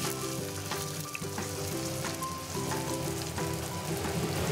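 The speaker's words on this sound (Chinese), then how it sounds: "热油淋上来炝香" Hot oil poured over chili and Sichuan peppercorns for a pork liver dish with ginger and scallions, giving a steady, dense sizzle and crackle throughout, with a tonal background beneath.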